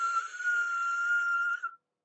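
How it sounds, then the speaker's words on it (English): A small steam engine's whistle sounds one steady, clear, loud blast of nearly two seconds, then cuts off into silence. "he gave a loud whistle at the school"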